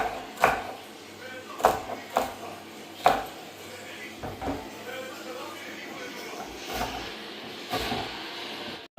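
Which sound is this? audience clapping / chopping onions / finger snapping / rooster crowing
chopping onions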